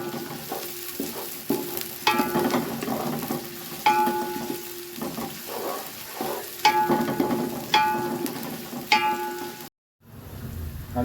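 Onions frying in a pan until golden for a mixed vegetable pulao give a steady close sizzle, with periodic bursts of stirring and scraping roughly every two seconds and a brief drop to near silence near the end.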